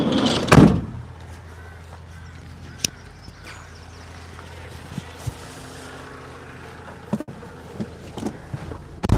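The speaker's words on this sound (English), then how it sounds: "Go close the door outside." An outdoor door swings shut with a solid thump near the start, followed by a quiet outdoor background with occasional small knocks and faint movement.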